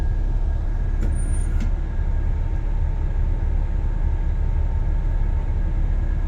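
A tour bus idles and pulls out of a parking spot, a steady low engine rumble throughout with a brief hiss like an air brake release early on, no talking.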